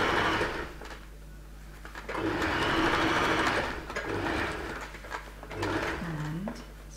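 A sewing machine stitching a coat sleeve seam around a bend, running in close, steady whirring bursts with short pauses and a brief clunk between runs.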